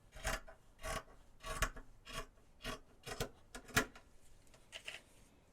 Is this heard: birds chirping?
no